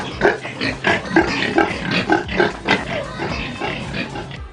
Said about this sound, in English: These are the pigs. They are for agricultural learners projects, and we also slaughter them for meat.